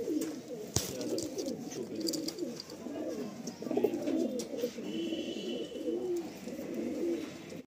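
Pigeons kept for sale coo continuously in a loft, layered throaty burbling from several birds with a sharp knock early on, close and steady.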